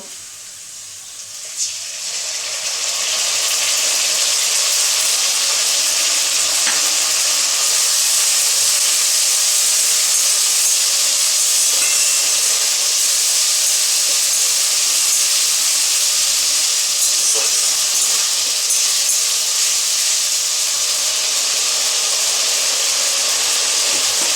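Ginger, garlic and tomato fry in a hot pan for a Bengali ghugni dinner, a loud, steady sizzle that starts with a burst and then holds evenly all the way through, with no talking.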